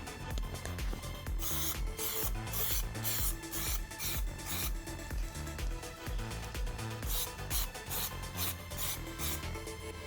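An aerosol spray can coats a VW Polo badge in black paint with a continuous close hiss, broken into repeated bursts as the spray sweeps from different directions.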